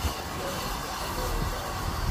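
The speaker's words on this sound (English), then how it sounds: "Oh, nice steam locomotive. It's a prairie tank engine." Prairie tank steam locomotive 5239 Goliath, a GWR 52XX on the Dartmouth Steam Railway, gives a steady low rumble and rolling noise close by for about two seconds, with no talk.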